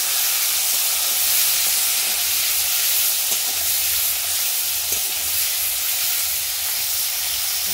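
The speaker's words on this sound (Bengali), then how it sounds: "তো পনিরগুলো এখনো ভেজে নিচ্ছে।" Paneer cubes fry in a pan with a loud, steady sizzle and hiss that runs unbroken the whole time, with no talking over it.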